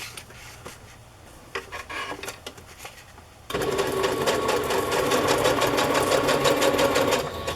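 A sewing machine stitches a straight border around a vintage photo on patterned paper, with quiet handling at first and then a loud, continuous run of rapid stitching close by.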